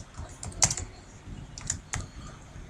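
PHP code is typed on a computer keyboard, a few close clicking keystrokes in small clusters with pauses between, quiet and alone.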